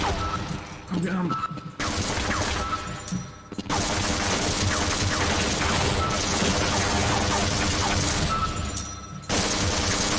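An automated turret in Half-Life fires loud, rapid bursts of gunfire that run almost continuously, with a couple of brief pauses between volleys.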